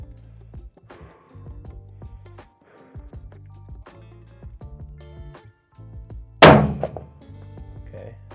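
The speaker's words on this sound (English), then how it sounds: "now what I'm gonna do is just shoot 10 rounds on the top unsuppressed" A single loud, sharp unsuppressed Tikka rifle shot cracks out near the end of the clip, following a stretch of quiet thumps and handling noises, with no talking.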